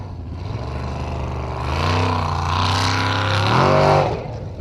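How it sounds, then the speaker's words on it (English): A Formula Offroad race car in Akureyri, Iceland, floors it with nitrous boost; a loud, steady engine roar climbs in pitch and swells to a peak before easing, heard alone. "We should hear whether or not he's got the extra nitro boost when he floors it."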